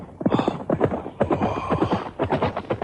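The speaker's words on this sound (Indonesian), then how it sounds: "Suara derap kuda, loh." Galloping horse hoofbeats from a radio drama sound effect: a steady, rapid clip-clop that runs the whole time, fairly close and loud, with no voices over it.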